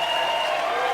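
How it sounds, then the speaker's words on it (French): A church congregation applauds and acclaims Jesus in a steady, loud burst of clapping and cheering from a full crowd. "Avec des ovations honorées. Est-ce que quelqu'un peut ovationner?"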